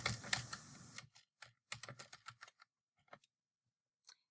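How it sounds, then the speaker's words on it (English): A date is typed on a computer keyboard: a fast run of crisp key clicks, then a few scattered taps with pauses, close and quiet with no voices. "And then I'll click into A10 and type the date."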